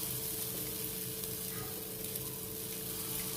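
Handvo batter sizzles steadily in a little hot oil in a nonstick pan, giving a continuous, even, fairly soft frying hiss close by with no talking.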